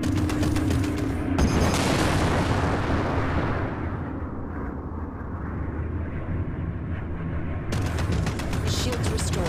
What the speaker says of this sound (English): Bring your reticule in line with the target and fire your cannons.